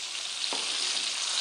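Thin slices of battered chicken breast frying in hot oil give a steady, dense sizzle that stays even and continuous throughout, with one brief soft clack partway through.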